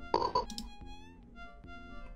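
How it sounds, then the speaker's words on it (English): A frog croaks in a shareware video game, a short, loud electronic croak followed by game music tones, with no talk. "I hear the frog."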